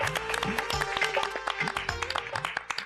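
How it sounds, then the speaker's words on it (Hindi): Studio audience applause on a Hindi comedy TV serial, clapping bursts that come and go in several close, fairly loud waves with no talk over them. "तालियां।"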